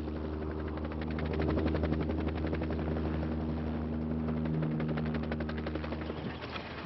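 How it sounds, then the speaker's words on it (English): A Mini-500 light helicopter flies close by, its steady rotor thump and engine drone loud and continuous throughout with no one speaking. "This is the chopper's tail rotor."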